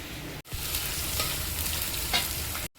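Whole cumin seeds crackle and sizzle in hot oil at the start of cooking taro greens, a steady close-up frying hiss broken by brief pops, cut off abruptly at both ends.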